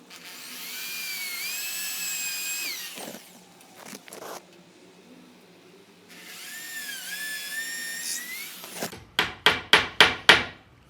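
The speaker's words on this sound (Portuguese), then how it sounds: "Vou botar o segundo prego agora, vou botar um terceiro aqui" Nails being hammered into a recycled-wood workbench: a fast series of five or six sharp, loud hammer blows near the end, preceded by stretches of high-pitched whining power-tool noise and a few softer knocks.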